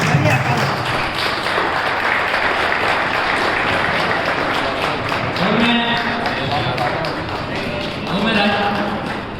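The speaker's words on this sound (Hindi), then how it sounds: "और आप सभी तालियों के साथ इंतजार करें।" An audience claps at a school retirement ceremony, a steady loud patter of many hands mixed with voices and crowd noise throughout.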